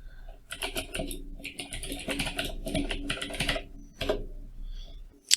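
Rapid, fairly loud typing on a computer keyboard, with irregular bursts of key clatter and short pauses, alone without voices.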